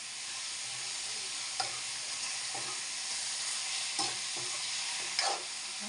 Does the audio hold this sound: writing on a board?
no